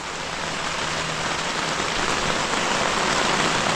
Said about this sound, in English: Pouring rain.